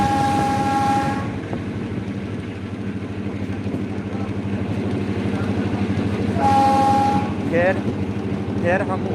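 Moving train running from Bajpatti toward Muzaffarpur, with continuous rolling rumble and rattle of the wagons throughout, and short horn blasts near the start and again near the end, joined by occasional squeals; a voice talks in places.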